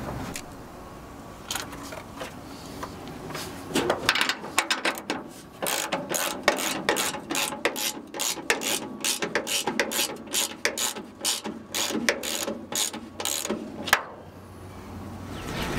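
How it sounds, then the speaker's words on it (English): A hand ratchet tightens the bolts on a new fleetside bed of a 1966 Chevrolet C20 pickup, giving a long run of close, fast mechanical clicks that come in bursts with short pauses between them. "It's snugged up nice and tight with just a ratchet."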